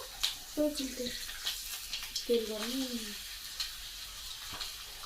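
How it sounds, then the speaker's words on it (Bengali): Papad frying in a pan at home, a soft steady sizzle with light stirring clatter, while voices talk over it in the foreground. "মা পাপড় ভাজা করছে"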